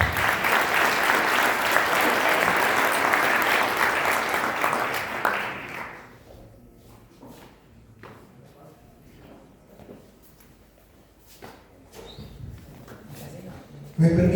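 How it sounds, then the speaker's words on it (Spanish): Loud, dense audience applause at a business symposium on small and medium enterprises in Querétaro fills the first six seconds, then fades to scattered claps and quiet room noise with a few sharp knocks near the end. "Démosle un aplauso"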